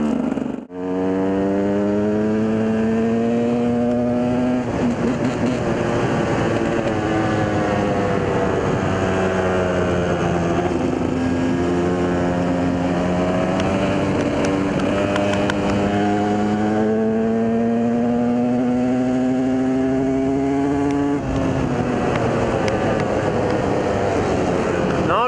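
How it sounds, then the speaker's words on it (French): A KTM 200 EXC enduro motorcycle revs hard through a wheelie, its engine note sustained, loud and close, rising and falling in pitch as the throttle is worked for about twenty-five seconds. "Petit wheeling pour bien finir."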